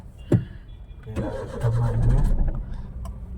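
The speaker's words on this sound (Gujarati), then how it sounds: "હજાર સીસીનું એન્જિન ચાલુ થઈ ગયું છે" A 1000cc car engine cranks with a sharp click and then catches, settling into a steady close idle with a slight rev, heard alone without talk.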